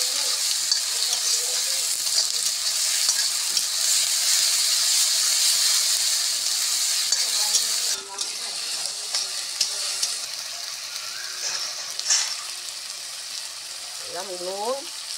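Tomato and ground cumin paste frying in a pan, a steady close sizzle with bubbling and occasional stirring scrapes, as a voice speaks briefly near the end.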